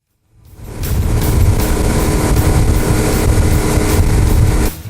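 Motorboat engine running steadily and loud for several seconds, a continuous broadband roar with no voices, as it tows a water skier on a river or lake.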